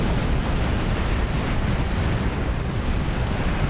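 A full spread of torpedoes fired in Star Trek Online, heard as a continuous, dense roaring rush of broadband noise, loud and unbroken, with no distinct separate launches standing out.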